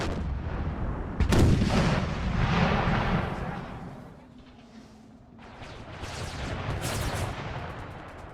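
Cannon artillery in a Napoleonic-era Empire: Total War battle booms repeatedly, with heavy distant blasts and rolling echoes rising and falling amid the din of combat.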